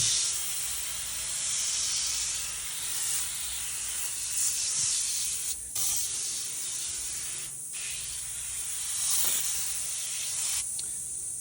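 Steady hissing spray of cleaner onto a grill running for several seconds, with brief pauses and bursts, fairly close and continuous.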